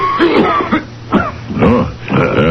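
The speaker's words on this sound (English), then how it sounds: "No, that's not a good sounding cough, brother." A man in an old-time radio drama coughs and clears his throat in several rough, close bursts over a couple of seconds, with short pauses between the hacking fits.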